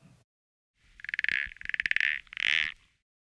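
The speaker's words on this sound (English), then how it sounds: "a big toad crawled out from the corner of the yard" A big toad in a yard croaks in three drawn-out, buzzing trills, each rapidly pulsed and fairly loud, separated by brief pauses against an otherwise silent background.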